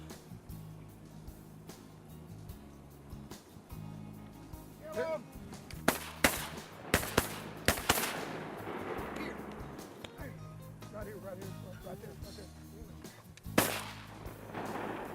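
Shotguns fired while duck hunting by water, several sharp loud blasts spread through the middle of the stretch with another near the end, over a low boat or engine hum while people talk.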